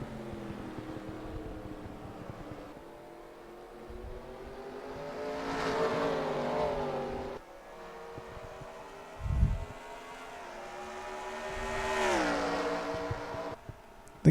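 NASCAR stock cars racing at Watkins Glen in the NR2003 racing game, engines swelling and fading as cars pass, with repeated rising revs and a few sharp shifts, fairly quiet overall.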